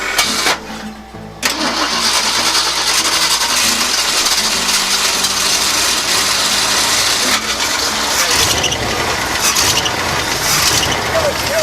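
An engine cranks briefly and catches, then settles into a steady, loud idle with no throttle. A mechanical whir runs over the rumble, and a voice can be heard at times.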